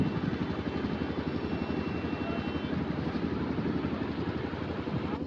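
A boat engine drones steadily and loudly throughout a river crossing toward Mayapur ghat, a constant low rumbling hum with no pauses.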